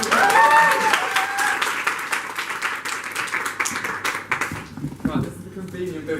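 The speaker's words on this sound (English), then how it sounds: "Give them a round of applause" A stand-up comedy audience applauds a volunteer who has just been picked from the crowd, with a dense burst of clapping that swells at the start and gradually thins out over several seconds while a voice talks over it.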